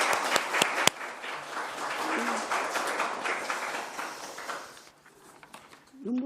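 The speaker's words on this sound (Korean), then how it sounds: "그동안 수고하신 고경희 울주관장님께 다시 한번 큰 박수를 보내드립니다." Sustained applause from a room of people at an education committee meeting, a steady dense patter of clapping with a few sharper claps near the start, fading into quiet and then a speaking voice.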